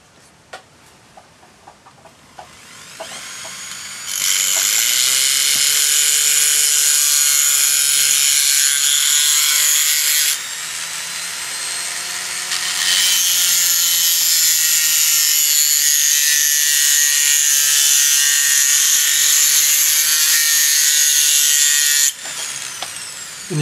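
An angle grinder bites into a hardened-steel patterned hammer head, a loud, harsh whining grind with a fluctuating pitch that runs in two long passes separated by a brief easing, preceded by a few light taps.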